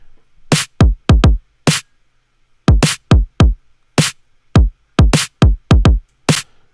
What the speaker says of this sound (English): So let's listen to the kick and snare together.